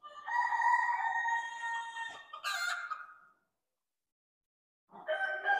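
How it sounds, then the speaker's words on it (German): Roosters and hens of the yellow variety at a poultry show: a long, harmonic crow sounds close and loud, followed by a brief louder call, a short pause, and then another crow starting up. "Ein paar schöne Hähne und Hennen."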